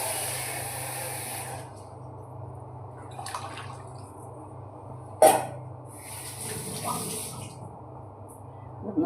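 Water poured into a cooking pot while preparing a fish curry, a soft continuous trickling and splashing with a couple of sharper clinks, quiet and close with no talking.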